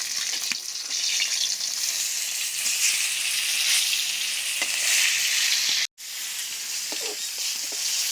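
Fish frying in oil in a pan as pieces are turned over: a steady bright sizzle and crackle close up, with scattered taps of the utensil and a brief cut-out near the end before the frying resumes.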